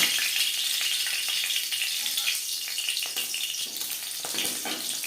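Cumin seeds and slit green chilies fry in hot oil, giving a steady, close hiss of sizzling with faint crackles, constant throughout with no talk.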